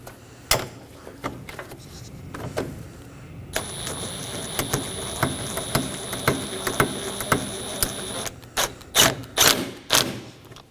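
Bolts are snugged down on a 2020 Toyota Corolla front bumper with a ratcheting tool, giving close clicking ratchet runs, sharp taps and knocks, and a steady mechanical whir through the middle.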